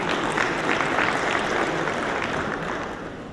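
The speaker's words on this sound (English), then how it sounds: "Give the government a clap." Audience clapping for the government at an agri-business investment forum in Jamaica, a dense, sustained wash of applause from a large crowd, steady and fading slightly at the end.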